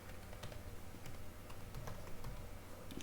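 Keys clatter on a computer keyboard in a quick, close series of soft taps over a steady background hiss.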